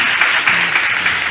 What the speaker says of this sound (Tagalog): O mga binayaran pa yan ni Denden para pumalakpak